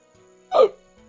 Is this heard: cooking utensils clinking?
no